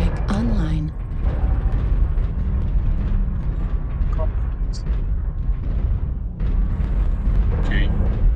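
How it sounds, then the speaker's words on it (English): Deep rumbling artillery strike explosions rolling continuously in a mech combat video game, a heavy sustained low roar with brief voice chatter over it. "Artillery strike online."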